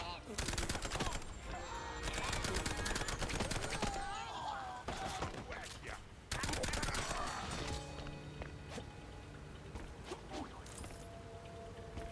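Rapid gunshots and bursts of fire in the cartoon shooter Mouse: P.I. For Hire on Supersleuth difficulty, dense and loud over game music and effects, with a voice talking at times.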